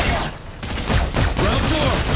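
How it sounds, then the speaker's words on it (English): Dense gunfire bursts crackle through a Call of Duty Infinite Warfare battle scene, loud and close, rattling in rapid clusters alongside shouting voices. "They're shooting civilians."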